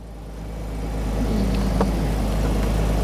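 A high-mileage Porsche Boxster 987 engine hums steadily at idle, low and continuous, with a brief rising rev in the middle; no voices.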